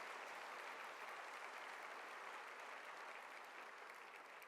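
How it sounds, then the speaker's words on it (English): A steady, even wash of audience applause at a ministry report event, faint and distant-sounding but unbroken, with no voices rising above it. "round of applause?"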